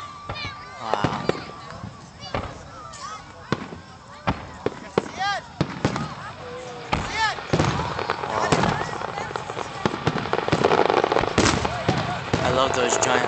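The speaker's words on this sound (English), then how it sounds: "I love those giant fireworks." Big Fourth of July fireworks burst in quick, repeated booms and crackles that build into a dense, loud barrage toward the end. Crowd chatter and voices run throughout.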